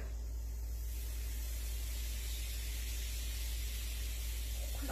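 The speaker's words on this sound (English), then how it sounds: "Lots of fizzing, lots of bubbles." Magic potions fizz and bubble steadily in a continuous, hissing spray-like wash that holds at an even loudness throughout, with no voices over it.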